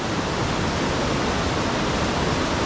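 Dense, steady roar of rushing water at a hydro power site in Kinloch Rannoch, a continuous broadband torrent, close and loud with no pauses.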